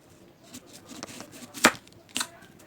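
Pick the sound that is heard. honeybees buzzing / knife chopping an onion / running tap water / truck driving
knife chopping an onion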